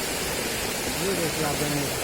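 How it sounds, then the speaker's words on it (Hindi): A waterfall at Laduagarh in Uttarakhand pours down in a constant, dense roar of rushing water, loud and close, with people talking over it toward the end. "ये यहाँ से झरना गिर रहा है और नीचे तक ये आ रहा है।"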